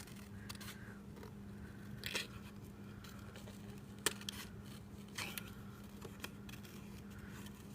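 Paper snips cutting paper flower spikes: a series of crisp snips and rustles spaced a second or so apart, close and fairly quiet over a low hum.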